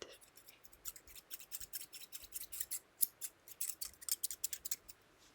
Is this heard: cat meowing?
no